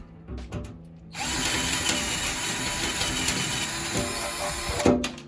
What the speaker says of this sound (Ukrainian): Тепер розсвердлюємо тут отвори.